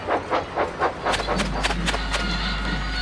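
An animated goods train rolls along with rhythmic clattering wheel beats, then a steady low rumble and hiss settles in as it slows, heard at moderate distance.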